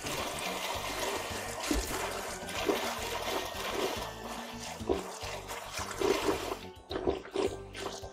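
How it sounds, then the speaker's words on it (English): Water sounds from drinking in the survival video game Rust, a continuous trickling and splashing wash lasting several seconds, moderately loud with no talk. "Let's drink water."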